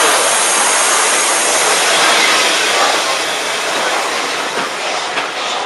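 A heritage train of green Mark 1 coaches on the Bluebell Railway passes close by at its 50th Anniversary Gala, a loud continuous roar of wheels and rushing air with faint rhythmic clatter and no talk.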